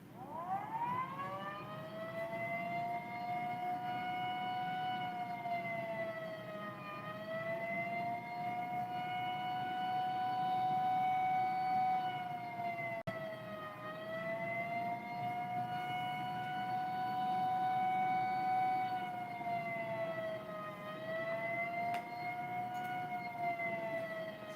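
A civil defense siren sounds its attack signal from an imported local-siren preset, a steady sustained wail that rises and dips slowly in a few long undulations, loud and continuous with no voices.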